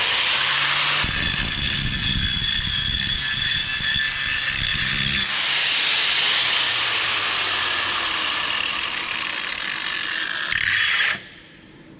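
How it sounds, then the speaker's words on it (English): An angle grinder's disc works along a MIG weld bead on mild steel sheet, a loud, continuous high-pitched grinding whine with shifting pitch that holds for about eleven seconds, then stops abruptly. "the first step in cleaning the weld up is I'm just going to use a grinding disc"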